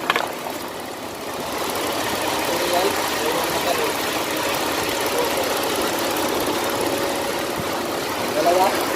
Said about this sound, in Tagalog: may misfire siya, yan, may palag siya, makikita natin, yan, pumapalag-palag po yung makina niya